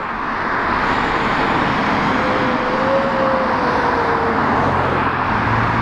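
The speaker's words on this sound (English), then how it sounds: "That's a diesel, believe it or not." A diesel car rolls past at a drive-by car show, giving a steady, broad road rumble with a faint rising and falling whine in the middle, moderately close and without talk.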